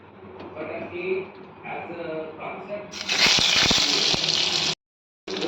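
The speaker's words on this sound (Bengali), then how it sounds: "এবার সিদ্ধ করে কেটে রাখা ডিমগুলোকে গরম তেলে ভেজে নেব" Halved boiled eggs drop into hot oil for mutton dak bungalow curry, bursting into a loud crackling sizzle after a stretch of speech, then cutting off briefly before resuming.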